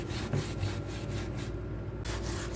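Steady close scrubbing on a kitchen exhaust hood during cleaning, a continuous rubbing scrape with faint rhythmic strokes, heard alone for a couple of seconds.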